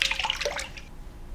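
Rice flour batter poured into a steamer tray, a short burst of close, bright splashing and dripping liquid that fades out after about a second.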